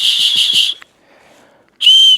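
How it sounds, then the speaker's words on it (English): A small whistle on a backpack strap is blown twice, loud and shrill: a first blast that stutters in quick pulses, a short silence, then a second, steadier blast. "That's a whistle."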